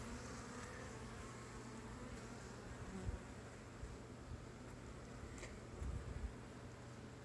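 Honey bees swarming around an opened, pollen-packed hive, a dense continuous buzz of many insects nearby, with a few brief handling bumps and no voices.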